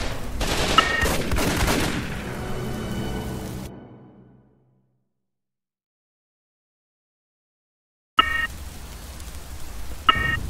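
Raven Squad gunfire opens with loud, rapid bursts of automatic shots that fade into a tail, then near silence, and close with more clattering shots and beeps.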